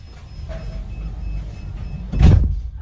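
Power sliding door on a Ford Tourneo van sliding open automatically, a soft motorized whir ending in a louder clunk as the door reaches its stop, close by and with no talking.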